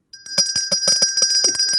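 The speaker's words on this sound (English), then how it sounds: "I like the bell. Let's keep ringing that bell every time we do something good here during this interview." A small hand bell rings rapidly during a live interview, a bright, close, sustained jangle of quick repeated strikes lasting under two seconds with no talk over it.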